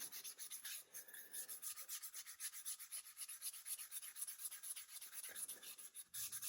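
Quiet, rhythmic rubbing strokes of 180-grit abrasive fleece scrubbing a Trabant 601 engine ignition housing, repeated steadily and close up with no voices.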